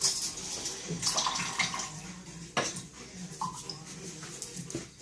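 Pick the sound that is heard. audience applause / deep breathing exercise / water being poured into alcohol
water being poured into alcohol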